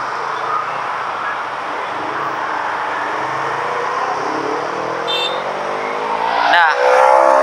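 Vehicle traffic on a Jakarta flyover approach, a motorbike riding alongside, heard as a steady loud engine and road roar with rising engine tones and a sharper burst near the end.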